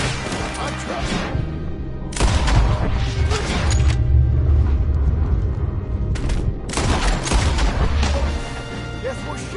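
Gunfire in a shootout from the video game Red Dead Redemption 2, loud bursts of overlapping shots in two long clusters with booming low rumble between quieter stretches, voices talking over the action.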